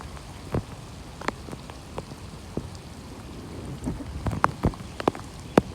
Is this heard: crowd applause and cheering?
no